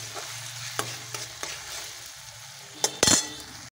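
Ground cumin and green chilli paste sautéing in a pan, a low sizzle under repeated stirring scrapes, with sharp clinks of a utensil against the pan near the end.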